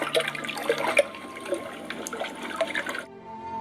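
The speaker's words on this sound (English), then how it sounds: "no sound, other than the gentle ripple," Almost still water ripples and laps gently around a small boat. The soft, close trickling continues alone with no voices, then drops away abruptly near the end.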